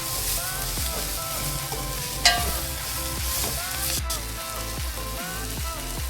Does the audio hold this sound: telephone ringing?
no